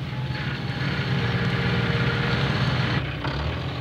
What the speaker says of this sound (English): It was Peter Fogg on his new tractor with the bulldozer blade.